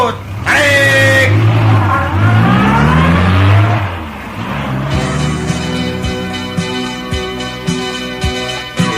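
Car engine rumbling and revving under overlapping talk and a busy comedy soundtrack, running steadily for several seconds before it cuts out, in a Sundanese comedy sketch.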